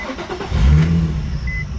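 A Nissan 350Z engine, with a slightly worn throwout bearing, is shut off with the clutch pedal pushed in: a brief low rumble swells loudly, then dies away with a short settling hum.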